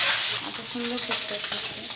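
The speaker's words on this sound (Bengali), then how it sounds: "ডিমগুলো ভেজে নিচ্ছি একটা একটা করে।" Eggs fry one at a time in a pan of hot oil for an egg curry with potato and lentils, giving a steady, close, loud sizzle with crackling pops and a faint stir throughout.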